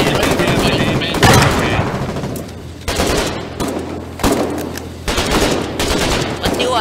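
Gunfire in the war game Foxhole, with several loud, sharp volleys and bursts of shots that rise and fall over a steady, noisy battlefield background.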